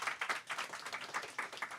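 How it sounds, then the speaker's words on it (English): An audience applauds authors at a book event, with brief, fairly faint clapping that comes in quick, uneven bursts. "Let's give our authors a round of applause"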